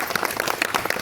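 A gathered audience claps after a dance performance, a short burst of quick, uneven hand claps close by.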